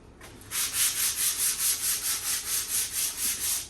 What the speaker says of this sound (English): y'all ain't just watching me sand the whole time. And hearing that noise.